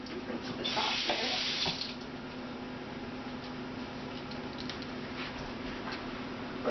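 Kitchen sink tap running as something is rinsed off while baking a green velvet cake; a steady close splash of water with a brighter gush near the start, continuing at a lower level.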